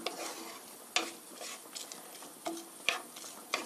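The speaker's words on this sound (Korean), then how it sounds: "3분 3분 정도 볶아주세요." Onion, garlic and carrots stir-fried in a pan, a faint sizzle under soft scraping and clicking strokes of a utensil against the pan, no voices.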